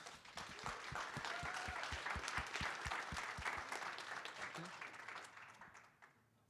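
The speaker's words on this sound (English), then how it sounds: "I would like to give them another round of applause" At a software testing conference's lightning talk session, the audience applauds the speakers with dense, sustained clapping that carries on steadily for several seconds, then thins and fades at the end, with a rhythmic thump running beneath it.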